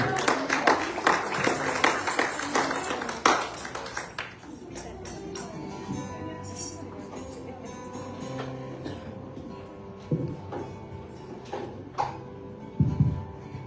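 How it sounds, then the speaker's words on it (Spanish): A Pentecostal church congregation claps and applauds in a loud burst for the first few seconds, then the clapping dies away into quieter room sound with a voice and sustained musical tones. "Demos un aplauso al Señor por ello."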